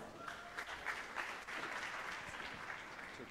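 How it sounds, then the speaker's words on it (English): Faint applause from an audience at an English-language education forum in Jazan as a speaker comes on stage, a soft steady patter of clapping throughout. "let us all welcome on stage with a round of applause, Mr. William A. Cox"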